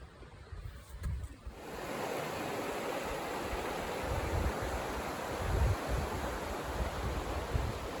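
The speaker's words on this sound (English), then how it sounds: "So we're back down next to the river here, and it is awesome." A river rushes through the Enchanted Valley in the Olympic Mountains, a steady, full wash of flowing water heard up close with no voices.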